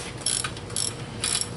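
A hand ratchet runs down the bracket bolts on a 2007 Mini Cooper S R56 engine during cylinder head installation, sounding as three quick bursts of close, crisp clicking.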